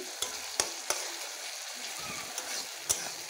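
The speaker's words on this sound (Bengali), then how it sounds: "সর্ষে আর কাঁচা জিরে বাটা। এটা ভালো করে কষিয়ে" Mustard and cumin paste being sautéed in a pan, a steady soft sizzle with several sharp spatula scrapes and taps spaced through the short stretch, close and fairly quiet with no talking.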